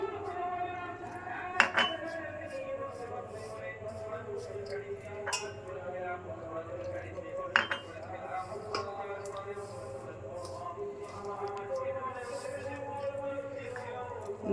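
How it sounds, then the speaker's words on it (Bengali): Batter for beguni is mixed in a bowl, with a utensil clinking and scraping against the sides in irregular taps and a faint voice in the background. "এখন এটাকে ভালো করে মিক্স করে নিতে হবে।"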